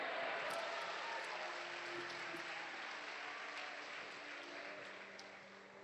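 A congregation at a Wednesday evening service at Catedral da Família in Castanhal applauds in a faint, continuous wash of clapping that slowly fades, with a few sharper claps standing out.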